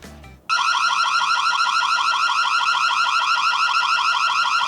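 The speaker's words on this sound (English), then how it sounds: "So I'm gonna activate the alarm and see how loud this is." A smart AI bird feeder's built-in alarm switching on abruptly after a brief moment of background noise, then sounding a loud, continuous, rapidly warbling electronic siren close by.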